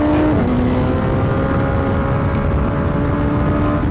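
A Radical track car races around Silverstone, its engine loud and close with a steady high whine as the pitch climbs through the gears, drowning out everything else.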